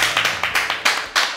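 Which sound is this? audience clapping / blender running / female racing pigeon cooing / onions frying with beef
audience clapping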